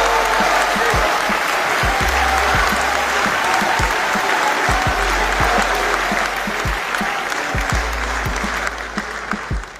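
A large audience applauds warmly for poet Tahzeeb Hafiz at a poetry gathering, a dense, steady wash of clapping that fills the whole stretch and thins slightly near the end.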